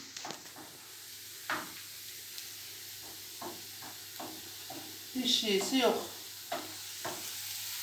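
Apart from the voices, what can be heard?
onions frying in a pan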